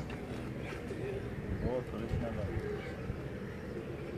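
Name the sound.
pigeons cooing on a rooftop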